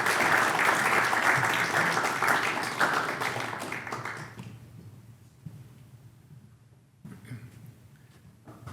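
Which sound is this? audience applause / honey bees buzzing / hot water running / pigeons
audience applause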